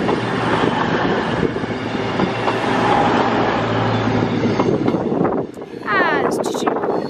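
A train rolls through Crewe station, a loud, close rumble of wagons and rhythmic wheel clatter, ending with a brief dip and high wheel squeal as it passes.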